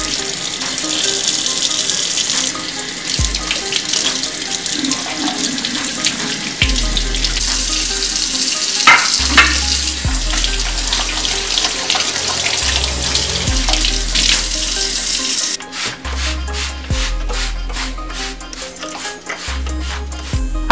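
Tap water runs steadily into a kitchen sink while meat is rinsed underneath, the flow shifting and splashing as the pieces are handled, close and loud with no talking.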